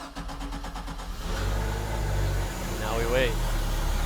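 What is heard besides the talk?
MerCruiser inboard/outboard boat engine running at idle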